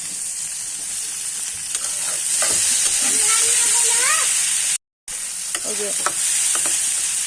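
Tomato, peas and carrot stir-fry in a pan with a steady close sizzle and hiss, while a voice talks over it and a short gap cuts the sound midway.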